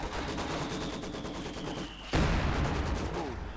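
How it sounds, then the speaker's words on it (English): Gunfire shootout from the real-time strategy game Company of Heroes 2, with dense overlapping rifle and machine-gun bursts rattling throughout and a sharp, louder volley or explosion breaking in partway. "Shootout continues there."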